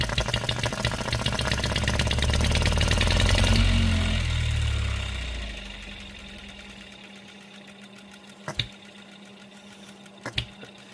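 An OKMO B02 engine runs with a rapid, sewing-machine-like mechanical chatter, then winds down and stops within a few seconds, leaving a faint hum and two sharp clicks.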